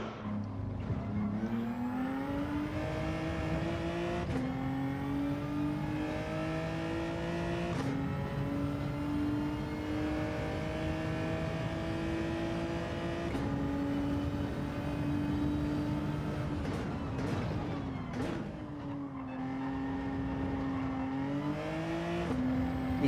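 A race car engine in Gran Turismo 7 at the Red Bull Ring, revving steadily up and down through gear changes for over twenty seconds, loud and continuous with no talk.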